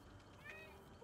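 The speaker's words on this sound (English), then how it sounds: "when you hear her meowing, I am actively petting her." A female cat meowing softly while being petted indoors, one faint short meow under quiet background and muffled low sound.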